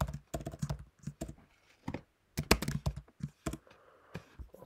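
Typing on a computer keyboard, with irregular bursts of close, crisp key clicks and short pauses between them, heard alone without speech.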